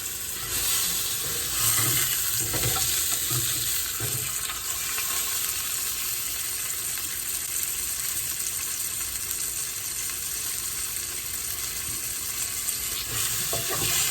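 A thick piece of chicken sears in a skillet, a continuous loud sizzle and crackle filling the whole stretch with no talking.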